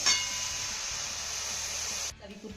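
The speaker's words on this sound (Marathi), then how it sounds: "इथे मी ना एक ग्लास भरून पाणी यामध्ये घालतेय" Water poured into a pan of hot fried masala for a gravy gives a loud, steady hissing sizzle that runs for about two seconds, then cuts off abruptly, leaving only quiet background.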